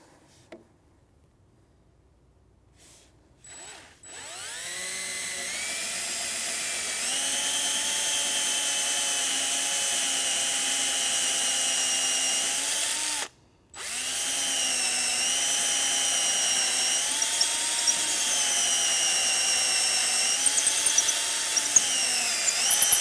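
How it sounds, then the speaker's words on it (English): A drill bit bores slowly and steadily through wood, its whine holding for several seconds before a brief pause, then resuming close and loud with small pitch shifts until the end. "I'm going to go really slow and I'm going to go straight with this included drill bit"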